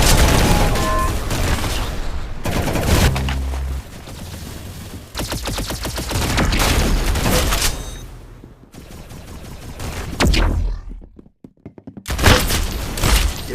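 Rapid gunfire from the video game Arsenal, with dense bursts of automatic shots and sharp single cracks spread across the clip, loud and close, with a brief lull near the end before firing resumes.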